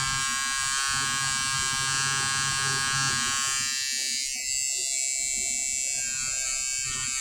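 Peggy's Stitch Eraser, a small electric stitch remover, buzzes continuously at close range with a steady high-pitched motor whine, its tone shifting briefly midway as it bites into stitching.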